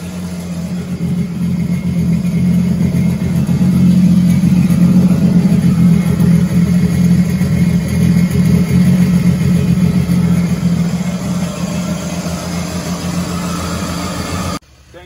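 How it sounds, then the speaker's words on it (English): A 2015 Sea-Doo GTX iS 260 jet ski engine runs steadily after starting, a loud, continuous low rumble with a faint higher whine, close to the microphone and holding level for the whole stretch before cutting off at the end. "putting the deck up so we can start the engine and see if everything's really good"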